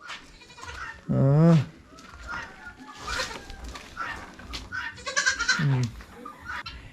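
A goat bleats loudly with a wavering cry, then bleats again a few seconds later, while people talk nearby between the calls.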